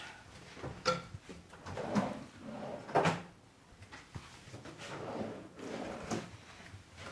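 Drawers in a Walt Disney World Swan Reserve hotel room slide and bump shut, with several distinct knocks and thuds spaced a second or so apart against a quiet room, close by.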